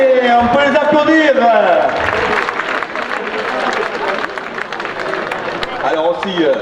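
An audience claps for a gymnastics demonstration by the Espoir Mugronais jumping school, a dense burst of applause that rises after an announcer's voice at the start and carries on steadily to the end.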